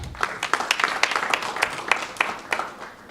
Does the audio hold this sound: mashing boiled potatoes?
no